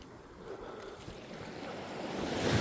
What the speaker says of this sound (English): There's not a lot of wind and the ocean seems pretty calm.